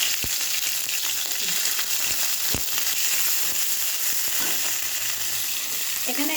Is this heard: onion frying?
yes